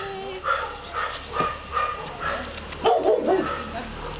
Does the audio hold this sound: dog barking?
yes